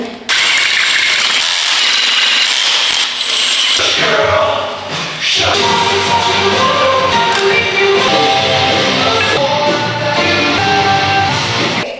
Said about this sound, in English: I'm just gonna drill out the holes to make it a size 10.